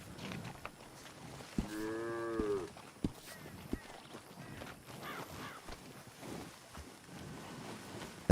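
A single loud cow moo in a video game, rising and falling over about a second, set among rustling, clattering background noise with a few sharp clicks and no speech.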